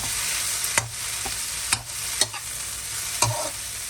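Fresh spinach wilting down in a pan, giving a steady low sizzle with a few sharp stirring scrapes and clacks at intervals, close up with no talking.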